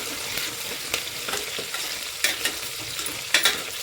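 Onion and curry leaves fry in a pan with a continuous crackling sizzle, broken by repeated sharp scrapes and clacks of a spoon stirring, close and fairly loud, with no talking.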